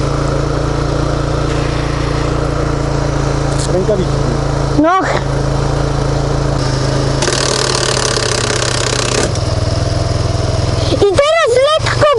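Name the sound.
Kayo 180 quad engine revved in neutral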